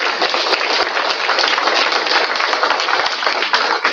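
An audience at a winter lecture on the West Virginia Penitentiary claps steadily for a guest, a loud, even wash of applause that holds for several seconds with no talking.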